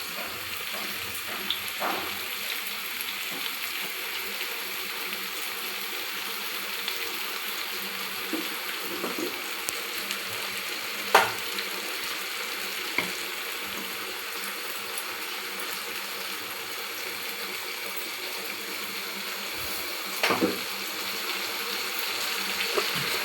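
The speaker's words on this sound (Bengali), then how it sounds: "এবার আমি আদা রসুন দেব।" Ginger and garlic fry in a pan for dahi chicken, giving a steady, fairly quiet sizzling hiss with a few scattered pops and clicks from the pan.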